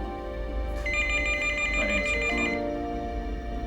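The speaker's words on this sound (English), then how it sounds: "But at that instant, the phone rang." A telephone rings with a steady, repeating electronic trill, loud and close, sounding alone without any talk over it.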